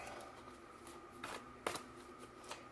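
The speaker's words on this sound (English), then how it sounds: "Sometimes I feel like I have to shuffle more sometimes." Tarot cards are shuffled by hand during a reading, a run of soft riffling and sliding flicks with a sharper snap near the middle, close and quiet.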